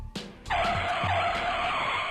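A car brakes hard and its tires skid and squeal in one loud, sustained screech lasting about two seconds, with no talking.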